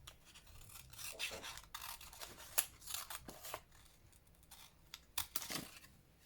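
Scissors snip through fabric and lace during a stitching project, a close series of sharp, irregular cuts with brief scraping rasps between them and no talking.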